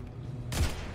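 Gunfire in the video game Destiny 2 during precision shots on the move: a low hum gives way to one loud, sharp burst about halfway through that rings out briefly.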